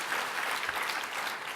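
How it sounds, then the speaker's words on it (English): A keynote audience breaks into applause, a brief, thick and steady roar of many people clapping at once with no voices on top. "Please applaud and work towards that objective."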